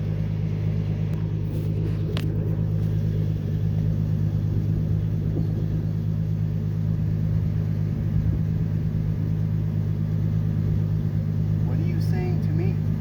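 A muffler-deleted 2003 Ford Ranger with the 4.0L engine cruising, its loud, steady droning exhaust rumble continuous throughout, with light cabin noise on top.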